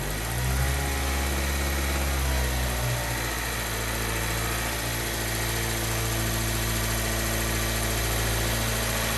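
A car engine with a cylinder 2 misfire is held at a steady 2,000 RPM, a loud, close, continuous drone with constant pitch and no talk.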